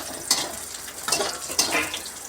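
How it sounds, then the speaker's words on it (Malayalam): Chopped onion hits hot oil with ginger for a tomato chutney, sending up several sharp bursts of sizzling hiss between quieter frying, close and fairly loud. "ഇതിലേക്ക് നമ്മൾ കട്ട് ചെയ്ത് വെച്ച വലിയ ഉള്ളി ഇടുകയാണ്"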